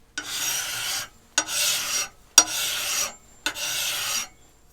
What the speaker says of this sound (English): Now I'm going to keep filing